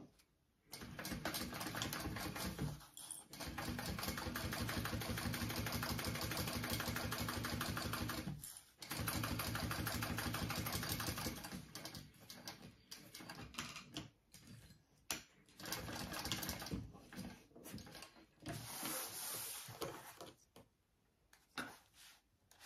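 A sewing machine top stitches a backpack in long, steady runs of rapid stitching, close and fairly quiet, broken by short pauses and followed by shorter, choppier bursts.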